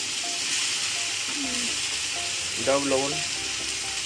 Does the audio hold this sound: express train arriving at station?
no